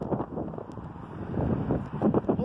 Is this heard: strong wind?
yes